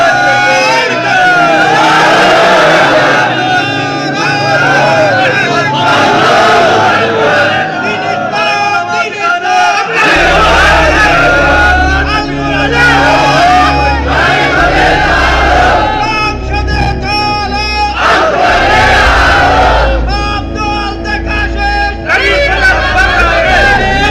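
A crowd at a Bengali Islamic religious sermon chants slogans in loud unison, with repeated shouted call-and-response bursts, a low rumble joining midway, and voices filling the whole stretch.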